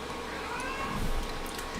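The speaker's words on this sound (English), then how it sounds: "I'm very sorry if you hear my cat. See, he's kind of crying a lot." A house cat cries out with one drawn-out, wavering meow, close and fairly clear against a faint steady background hum.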